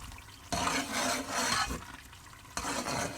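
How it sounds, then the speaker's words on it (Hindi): Pieces of meat frying in roughly 300 ml of oil for shaljam gosht, a moderate sizzle with bursts of scraping and stirring in the pot, no speech. "मैंने तकरीबन आप कह सकते हैं कि 300 ml इसमें ऑयल शामिल किया है ताकि हम गोश्त को अब भूनना शुरू करें"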